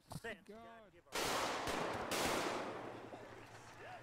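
Burst of video game gunfire during GTA roleplay, a loud sustained volley that erupts after a shout and slowly decays, with voices around it.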